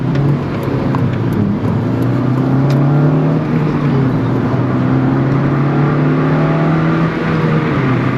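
An 8th-generation Honda Civic Si with a K&N drop-in air filter revs hard, its engine note climbing and sliding in pitch as it pulls through the gears, loud and continuous from inside the car without talking.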